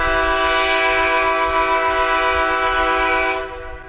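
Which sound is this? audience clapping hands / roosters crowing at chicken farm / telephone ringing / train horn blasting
train horn blasting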